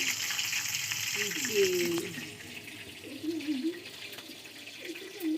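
Food fries in ghee in a pan in a home kitchen, giving a steady, close sizzle and hiss while a voice talks over it.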